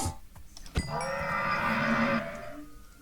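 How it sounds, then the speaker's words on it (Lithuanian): A horse neighs in a video game, a loud, sustained whinny with a rising harmonic tone that holds for about a second before fading, preceded by a sharp click. "Tu girdėjai, aš arklį nuždžiau toksai garsiai."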